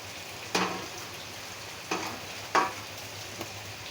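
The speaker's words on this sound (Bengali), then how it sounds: "এখন দিয়ে দেবো এই যে সয়াবিন আর আলু যেটা ভেজে রেখেছিলাম ওটা" Fried soybean and potato go into a spice masala for curry: a low steady sizzle broken by three or four sharp knocks and scrapes of the spoon against the pan, close by, with no speech.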